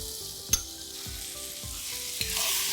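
Spices such as turmeric, chilli powder and garam masala stirred into tomatoes frying in a pan for chicken roast, a steady close sizzle with rhythmic spoon scrapes and a couple of clinks.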